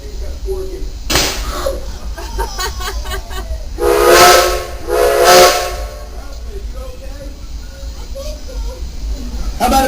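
A steam train whistle from locomotive 13 or 76 sounds in two loud, sustained blasts near the middle, with a shorter toot earlier, over a steady background hiss of steam.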